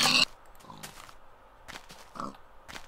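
A pig in Minecraft gives a few short, clipped grunts at intervals, mixed with sharp game sound effects and a loud burst at the start.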